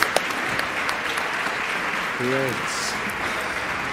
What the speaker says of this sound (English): please give my panelists a big, big round of applause